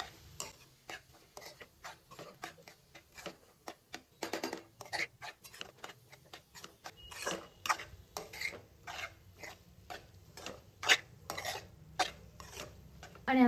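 A spoon stirs red chilli sauce and ketchup in a bowl, giving soft, rhythmic clinks and scrapes that grow brisker and louder over time.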